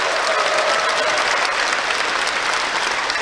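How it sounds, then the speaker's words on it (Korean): A large audience at a memorial ceremony and cultural event claps steadily for the provincial governor, a dense, even wash of applause filling the hall throughout with no voices over it. "이철우 도지사님에게도 더 힘내시라고 큰 박수로 응원해 주시기 바랍니다."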